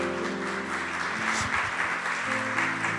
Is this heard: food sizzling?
no